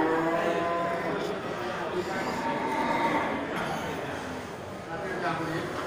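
Cattle being sold as feeder stock low at a farm with a Simmental steer nearby, a deep drawn-out moo rising over a busy background with someone speaking throughout.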